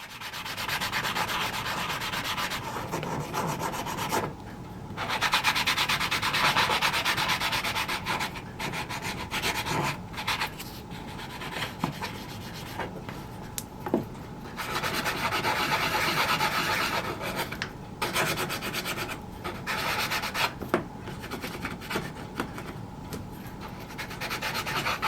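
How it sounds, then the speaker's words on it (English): Small model ship part being sanded by hand after trimming with nippers, a steady rasping scrape in repeated strokes with short pauses, close and fairly loud, no talking. "You almost don't need to sand, but I will."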